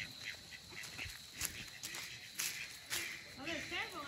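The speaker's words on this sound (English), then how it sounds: "A miniature duck parade." A small parade of ducks quacks faintly outdoors in a few short scattered calls beneath a steady hiss of background noise.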